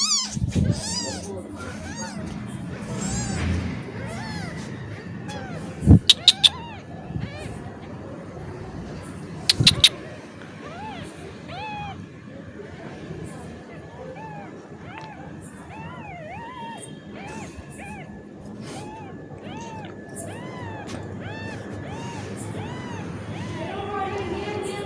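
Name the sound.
kittens meowing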